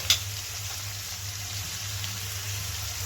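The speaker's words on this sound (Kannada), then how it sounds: "ಸೇರಿಸ್ಕೊಂಡು ಟೊಮೆಟೊ ಚೆನ್ನಾಗಿ ಮೆತ್ತಗಾಗಬೇಕು, ಅಲ್ಲಿವರೆಗೂ ಹುರ್ಕೋಬೇಕು" Tomatoes frying in a pan for a bakery-style puffs filling give a steady, soft sizzle with a faint crackle, plus a single brief clink near the start. Nobody speaks.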